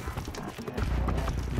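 Rapid hoofbeats of a galloping horse in the video game Horizon Zero Dawn, rhythmic clip-clop thuds growing slightly louder over a short stretch.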